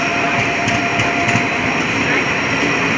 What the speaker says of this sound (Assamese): এখন ট্ৰেইন এতিয়া আহিছে